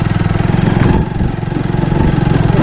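A motorcycle engine idles loudly and close by, a steady throbbing putter with slight dips in revs, on a rough forest road.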